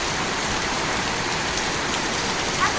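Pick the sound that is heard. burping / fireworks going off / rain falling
rain falling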